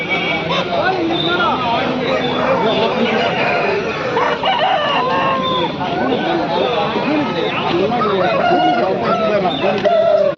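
A crowded, noisy Aseel poultry market in Krishnagiri district, full of chattering voices, with roosters crowing and hens clucking mixed into the din throughout.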